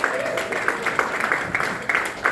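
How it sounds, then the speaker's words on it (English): Applause from an audience at a jazz festival lineup reveal event, a steady patter of many hands clapping at moderate volume for a couple of seconds, with faint voices mixed in. "So another round of applause,"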